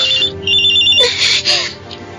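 A cellphone ringtone plays loud and close in a radio drama, its bright repeating melodic tones continuous over a steady background bed.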